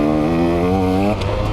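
A 2021 KTM 125 XC two-stroke dirt bike ridden hard, its engine buzzing loud and close with a steady high-revving drone before the pitch drops sharply as the throttle is rolled off.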